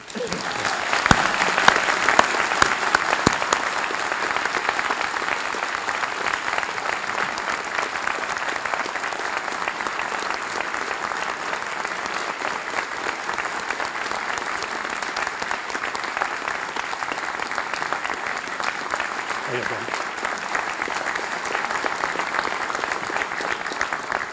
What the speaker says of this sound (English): won't you join me in giving John Dever a round of applause for his first year on the job?